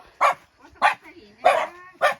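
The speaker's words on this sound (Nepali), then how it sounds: "कति हो त नि एउटा घर दुईटा कुकुर हेर त" Dogs at a village house give four sharp, close barks spaced about half a second apart, with faint whimpering and low sounds between them.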